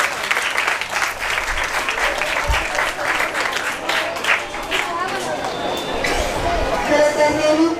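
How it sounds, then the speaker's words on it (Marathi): Loud, sustained applause from a crowd at a school entrance celebration, with clapping surging and swelling for several seconds over a background of chatter and stray voices. "जोरदार टाळ्या वाजल्या पाहिजे."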